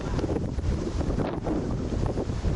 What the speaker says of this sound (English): By far the story of the weekend has been the wind.